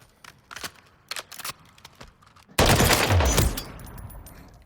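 Automatic fire from an H&K G36C in Call of Duty Modern Warfare III, a dense sustained burst in the second half after a few sparse clicks, loud and close.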